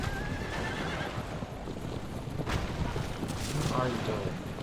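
A horse whinnies and its hooves clip-clop while pulling a wooden carriage in a video game, heard at moderate distance over a steady noisy background.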